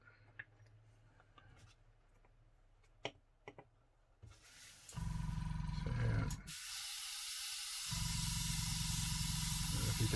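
A Harder and Steenbeck Infinity CR+ airbrush sprays water onto paper: after faint clicks and ticks, a loud steady hiss starts, briefly cuts to a thinner hiss, then resumes strongly, close up with no talking.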